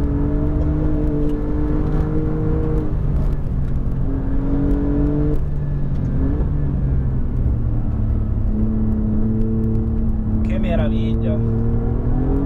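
An Alfa Romeo Giulia GTA engine pulls hard toward its 7000 rpm limiter, the note climbing steadily in repeated surges over a constant road roar heard from inside the car.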